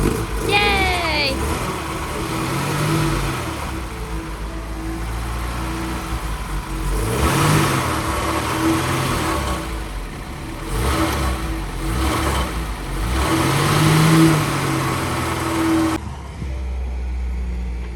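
Ford Cortina driving on the road, a steady mid-pitched engine drone with rising and falling revs throughout, heard from inside the car under occasional voices.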